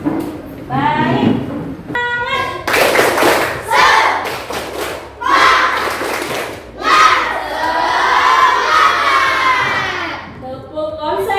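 Schoolchildren in a classroom lesson do a concentration clapping chant, with loud bursts of rhythmic claps and shouted voices alternating with brief pauses. A teacher's voice leads the routine.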